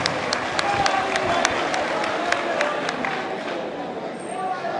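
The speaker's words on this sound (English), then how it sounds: "let us give a round of applause for the Canadian people" Audience at a polytechnic convocation lecture applauding, steady close clapping with a murmur of crowd noise throughout.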